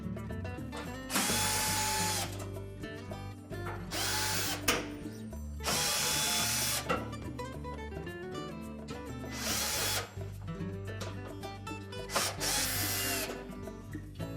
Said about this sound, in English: I'm just going to remove the screws that secure this panel to the range.